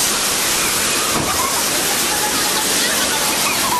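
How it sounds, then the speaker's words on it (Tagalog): Loud, constant broadband rush of waves churning and breaking along a shore in Manila, steady and near for the whole stretch, no lulls. "Ito na ang waves."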